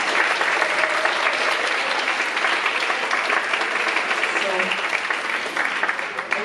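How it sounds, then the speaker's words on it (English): Loud, sustained applause from an audience for a singing group, a dense wash of many hands clapping without a break, with some cheering mixed in. "a round of applause for this amazing group"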